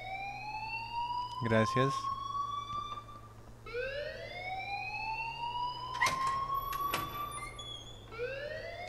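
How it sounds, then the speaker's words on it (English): An alarm rings in the Life is Strange video game, a repeating rising electronic wail in sweeping cycles over a low steady hum, with brief speech breaking in between sweeps. "Leave Miss Caulfield alone and please turn off that alarm since that's your job."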